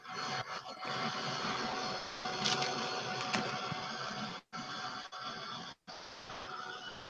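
A heat gun drying embossing on a craft box blows with a steady loud whooshing roar, cut by two brief pauses.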